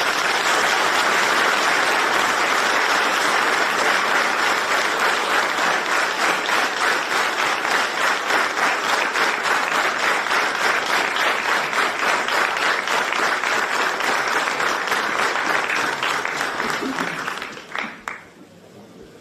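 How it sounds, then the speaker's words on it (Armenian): Sustained applause from an audience after a newly elected community head of Masis takes the oath, loud and steady for about seventeen seconds, then thinning out and fading to a few scattered claps at the end. "Շնորհակալ եմ ծափարությունների համար"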